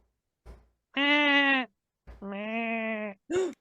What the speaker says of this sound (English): I think I hear goats.